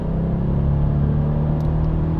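Inside a Volkswagen up! GTI, the three-cylinder engine drones with a low, steady hum and rumble, overlaid by artificially generated bass from a sound symposer, continuous and fairly loud with no talking.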